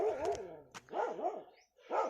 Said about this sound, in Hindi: और यहाँ पर डॉग भौंक रहा है